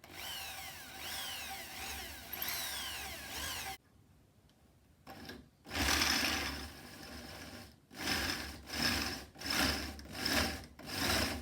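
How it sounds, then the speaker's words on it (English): Power drill boring a small hole in a mostly metal part of a supercharged Nitros postie bike, with a steady whirring grind, a pause, then several short loud bursts in a row up close. "Now I'm drilling the top one."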